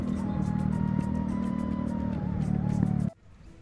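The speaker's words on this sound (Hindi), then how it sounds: "बाकी धीरे चलने में भी अच्छा साउंड आ रहा है एंड एग्जॉस्ट भी सूट कर रहा है यार" Modified Pulsar 125 motorcycle with aftermarket exhaust, idling and revving close by: a loud, steady engine drone with a rising and falling tone that cuts off abruptly near the end, leaving quiet background.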